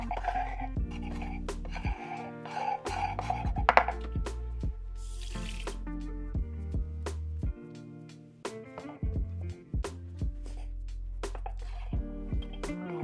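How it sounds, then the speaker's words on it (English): A knife chops onions on a cutting board, a close series of sharp, rhythmic taps in uneven bursts with brief pauses, some clattering between strokes. "As I'm cutting this, I realize I have way too many onions"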